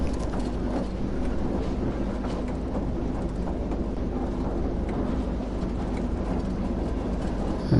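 A steel freight train in Tees Yard rumbles in Train Sim World 2, giving a constant low mechanical drone with rattling wagon noise that holds steady throughout, with no talk.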